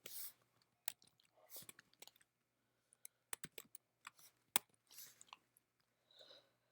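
Java code typed on a computer keyboard: irregular bursts of crisp keystrokes with short pauses between them, close and fairly quiet.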